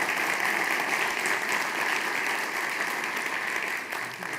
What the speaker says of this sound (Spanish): Aplausos también para él, por favor.